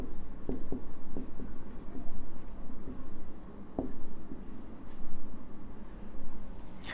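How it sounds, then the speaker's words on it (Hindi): Pen writing on paper, scratchy strokes in short bursts with a few taps, fairly close, under a faint background hum. "पेज के बीच में लिखना इसको।"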